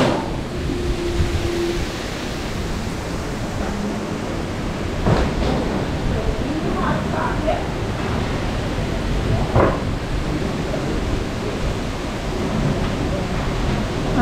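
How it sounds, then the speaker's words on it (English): Steady rushing of a small waterfall at a rum distillery in Grenada, a continuous broadband splash that stays even throughout with a few faint brief knocks and voices in the background. "I got a little waterfall there."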